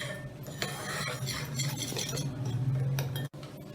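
Dry dahi phulki batter ingredients are stirred in a bowl, a steady close scraping and rasping with faint clinks throughout, over a low constant hum and with a brief dropout near the end.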